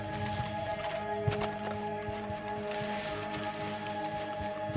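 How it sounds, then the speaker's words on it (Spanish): A horse approaches in Red Dead Redemption 2, its hooves clip-clopping in a steady rhythm over the ground with rustling and the creak of tack. The footfalls are close and clear, with no talk over them. "El caballo se viene para acá."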